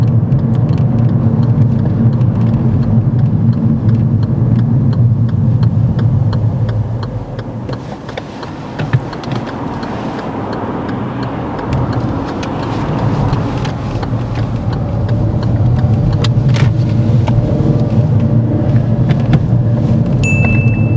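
A learner's car makes a right turn during a driving test, heard from inside the cabin as a loud, steady engine and road rumble with wind noise that dips briefly mid-turn before building again.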